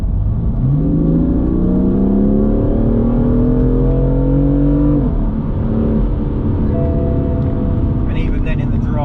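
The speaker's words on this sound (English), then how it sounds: "So let's go into Sports Plus mode, which will open all the exhaust valves." A 2016 BMW M4 convertible accelerates hard in Sport Plus mode with exhaust valves open, roaring, engine pitch climbing through the gears in loud close-up from inside the car.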